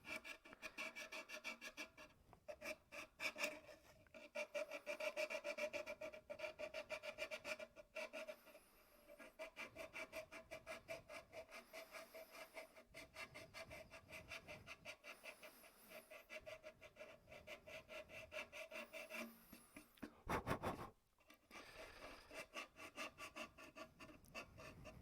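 Sanding a small wooden stick by hand with 320 grit sandpaper: steady, close rasping strokes in a quick repeated rhythm, briefly pausing, with one sharper scrape near the end.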